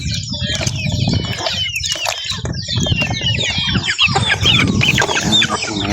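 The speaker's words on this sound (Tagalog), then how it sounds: "Mga manok." Farmyard chickens cluck steadily throughout, several birds close by with overlapping calls and brief bursts of wing flapping, loud and continuous with no talking.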